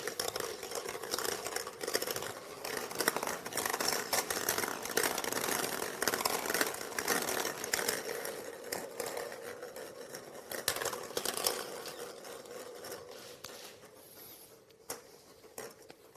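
Plastic UEFA draw balls are shuffled and rattled in a bowl, making a quiet, continuous clatter of light knocks and clicks that fades near the end.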